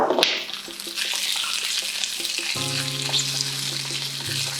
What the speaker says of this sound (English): put a little olive oil in the pan, add all the bits